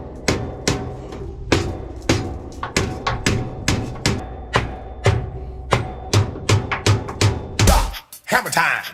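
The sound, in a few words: hammer pounding on truck parts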